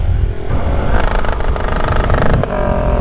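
A motorcycle engine revs up close and loud, its pitch rising and holding in a rough, rattling drone before easing off.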